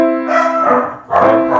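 Dogs bark a few times over sustained piano music, fairly close and loud.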